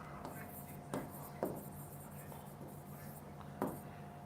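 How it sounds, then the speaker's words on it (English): Pen on paper while bullet points are written in a quiet room, with soft scratchy strokes and three sharper taps or strokes standing out faintly over low background hum. "I'm writing some bullet points"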